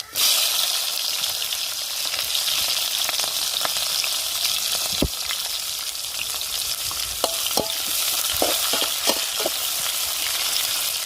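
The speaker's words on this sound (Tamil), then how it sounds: "எண்ணெய் சூடாயிருச்சுங்க கறி மசாலா பட்டை போட்டுக்கிறோம் வெங்காயத்தையும் பத்தக்காயும் சேர்த்துக்கிறோம்" Onions, spices, bay leaf and cinnamon bark sizzle steadily in hot oil in a pan, a dense continuous frying hiss with occasional stirring clinks and pops, heard close with no voices.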